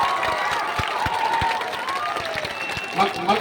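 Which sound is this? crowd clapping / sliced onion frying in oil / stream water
crowd clapping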